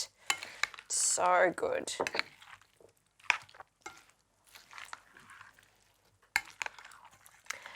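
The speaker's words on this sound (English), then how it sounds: "with a big spoon, fold everything together" Tuna and potato salad is folded together with a big spoon, producing soft, irregular scraping and squelching strokes against the bowl, close and fairly quiet, with a short spoken remark and brief clinks between strokes.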